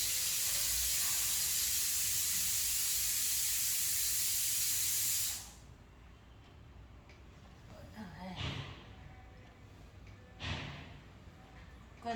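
A kitchen pressure cooker loudly hissing and whistling steam for about five seconds, then cutting off, leaving quiet room noise with a few faint sounds and soft speech.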